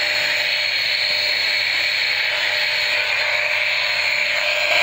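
A toy walkie-talkie switched on, giving off a steady, loud, close electronic hiss and whine that holds without a break, with no talk.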